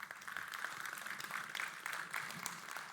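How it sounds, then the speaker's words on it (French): Audience applause after a keynote at a synthesizer festival, quiet and fairly distant, with steady scattered clapping running for about three seconds and no talking. "Vous pouvez l'applaudir."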